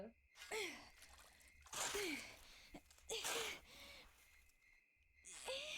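Heavy, gasping breaths from Jennifer, a young woman character in the horror video game Rule of Rose, come in loud repeated bursts close up, with short quiet gaps between them and a faint background hum.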